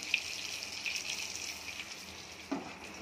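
Brinjal pieces sizzle softly in oil in a covered pan over a lowered flame, a steady faint crackle with one brief louder clatter near the end.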